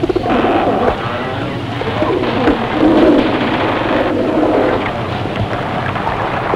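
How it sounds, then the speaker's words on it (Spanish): A dove coos in soft repeated phrases, close and fairly clear, over a steady low background hum. "Noé envió a una paloma fuera del arca esperando que encontrara tierra firme y vegetación"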